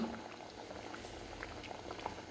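Egg gravy bubbles in a pan, a quiet close-up simmer of soft, irregular blips and pops over a low steady hiss, brief and without talk.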